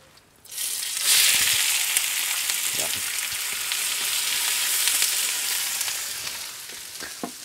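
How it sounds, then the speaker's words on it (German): Onions and crackling fry in lard on a Big Green Egg, bursting into a loud, steady sizzle after a quiet start, with scattered pops and scraping stirs throughout. "und als allererstes braten wir unsere Zwiebel mit an"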